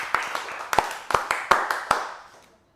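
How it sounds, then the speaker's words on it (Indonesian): A small class claps for a student group, producing a few sparse, uneven bursts of handclaps in a room that fade out to silence. "tepuk tangan untuk kelompok 2"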